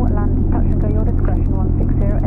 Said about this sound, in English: Come on, you're in an aeroplane, do it fast